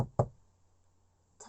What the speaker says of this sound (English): there was another knock at the door.